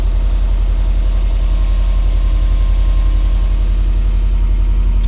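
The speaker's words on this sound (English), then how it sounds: "If we start the car up" Subaru WRX STI engine idling steadily, a close, even low rumble with a regular pulsing beat that holds unchanged throughout.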